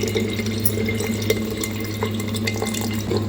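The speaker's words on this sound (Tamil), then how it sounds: "புளி தண்ணி ஊற்றி" Tamarind water is poured into a simmering fish curry of jalebi fish, a steady close liquid splash and trickle with a low constant hum of cooking underneath.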